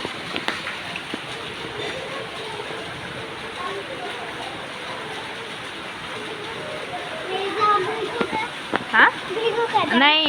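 Heavy monsoon rain pours in Nashik as a constant moderate hiss and patter, with people's voices rising over it toward the end.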